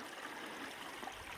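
Spring water seeps from a hillside in a gorge and gathers into a small stream, a soft, continuous trickling murmur heard faintly and briefly without any voices.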